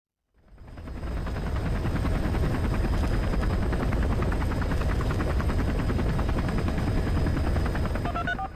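A medical transport helicopter on an emergency flight carrying a pregnant patient from Jeju, its rotor thumping in a steady, loud, continuous rhythm after a quick fade-in, with no voices.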